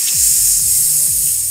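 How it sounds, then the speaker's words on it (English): A can of Febreze air freshener is sprayed into a room, making a continuous bright hiss for the whole moment, with low murmuring sounds underneath. "Spray your room with Febreze."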